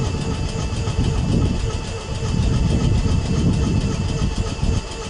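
A pair of coupled Class 450 electric multiple units, 45551 with another 450 on the back, rumbling steadily past at Clapham Junction toward London Waterloo, a sustained close-up roar of traction motors with faint rail clatter throughout.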